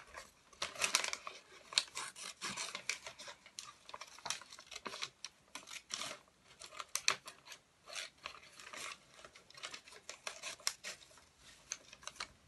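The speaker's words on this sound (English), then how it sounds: "you can twist not only your scissors, but you can also twist your paper" Scissors snip through paper during a nursery school craft lesson, a steady series of quick, crisp cuts and rustles up close with no voices.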